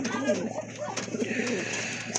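Two pigeons coo in low throaty bursts close by, with someone talking over them through much of the stretch.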